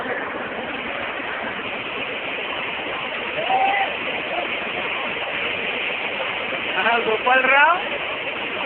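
Water pours with a heavy, continuous rush from an opened gate of the Erai dam. People talk briefly nearby over the roar.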